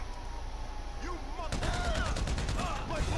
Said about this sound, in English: I'm gonna get my combat MG just because it's my best gun